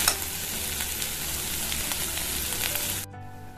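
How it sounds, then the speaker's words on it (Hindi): Pointed gourd and potato slices fry in a pan over a low flame, giving a steady, even sizzle that fades at the end. "कम फ्लेम पे इसी तरह फ्राई करते रहेंगे 2 मिनट तक"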